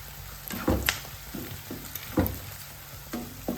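Green chillies drop into onions frying in a pan for a Kerala tuber curry, a low continuous sizzle broken by several sharp stirring clatters and scrapes spaced about a second apart.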